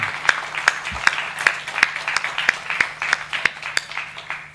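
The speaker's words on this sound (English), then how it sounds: "A huge round of applause for him." Audience clapping at a formal address comes as a slow, steady beat of distinct claps, about a dozen evenly spaced strikes over a faint low hum, like a few hands keeping time.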